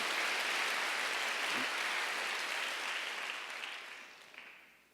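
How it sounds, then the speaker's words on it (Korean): A church congregation at a Sunday worship service applauds in a broad wash of clapping that holds steady, then gradually thins and fades toward the end. "박수."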